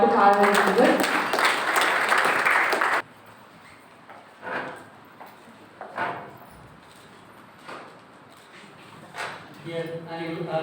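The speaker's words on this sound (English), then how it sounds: "Can you all put a round of applause to Father Gilbert?" Graduation ceremony audience breaks into loud, dense applause for about three seconds, then it cuts off abruptly; afterward a speaker addresses the gathering over a quiet hall, with a short burst of clapping returning near the end.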